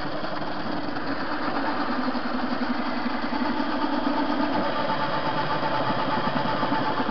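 The electric motor of a TV-16 metal lathe hums and whirs continuously at close range while turning a workpiece, with a low vibrating drone and no pauses.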